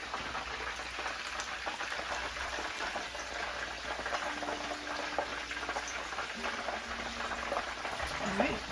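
Battered fish deep-fries in hot oil with a steady, rain-like bubbling hiss that holds an even level throughout, close and unbroken.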